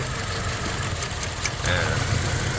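A Toyota Fortuner engine runs at a rough idle with cylinder four disconnected. A steady mid-pitched engine drone with an uneven, knocking pulse holds throughout, and it grows slightly louder partway through.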